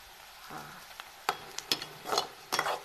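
Chopped onion browning in a pan with cumin, a soft low sizzle broken by several sharp spoon scrapes and stirring knocks against the pan, fairly quiet and close.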